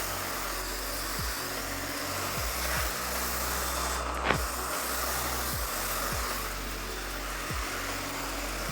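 A handheld hair dryer blows steadily on hair during a blow-dry styling session, a continuous broadband whoosh with a low motor hum underneath, holding even loudness throughout.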